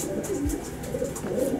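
A racing pigeon in a breeder's loft gives a short, low coo, close and fairly clear, against a steady background hiss.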